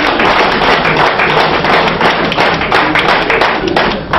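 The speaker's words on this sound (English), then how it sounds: "Clapping for me." Indoor audience at a fitness talk giving a continuous round of loud, dense clapping for a judo player, close and steady for the whole stretch without talk.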